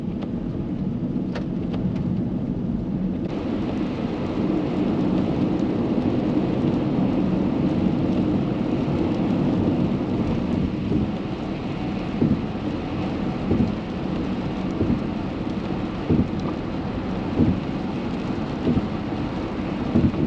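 Steady rain in Idaho fills the scene with a dense hiss and patter, broken by occasional louder drips and thumps, with no voices.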